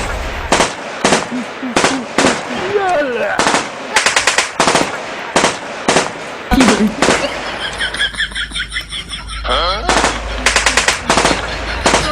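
Rapid bursts of machine-gun fire ring out again and again in a comedy war skit about an Iran–Israel war, with loud staccato volleys separated by short gaps and a continuous sustained burst in the middle.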